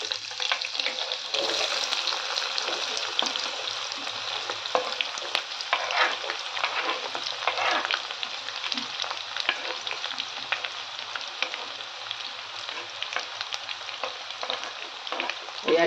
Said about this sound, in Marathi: यात टाकूया आपण 1 छोटा चम्मच जिरे, 1 छोटा चम्मच मोहरी. छान तळतळायला लागलंय. यात टाकूया आपण कांदा.